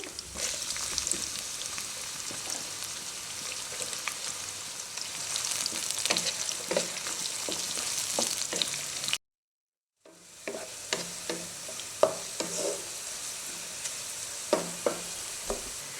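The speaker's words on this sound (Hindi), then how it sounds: "ऑयल गर्म हो गया है, इसके अंदर मैं स्लाइस प्याज डाल रही हूँ।" Sliced onions fry in hot oil in a pot, a steady crackling sizzle with stirring clicks and scrapes close by, briefly cut to silence partway through and then resuming, no voices.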